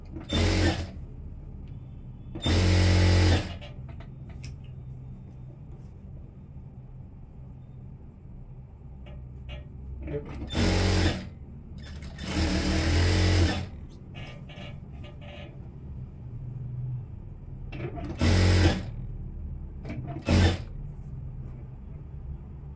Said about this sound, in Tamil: இங்கேருந்து ஒரு சின்ன டாக்கை அடிச்சுட்டு தைக்க ஆரம்பிக்கிறேன்.